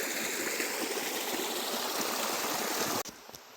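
A creek rushes steadily over slippery rocks at a trail crossing near Peters Falls in Tallowwood, a loud continuous wash that cuts off abruptly near the end.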